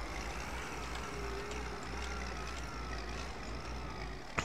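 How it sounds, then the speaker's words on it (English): A pickup truck drives in the farming video game Farm Expert 17, its engine a steady, fairly quiet hum with no break. "So we do have a pickup truck"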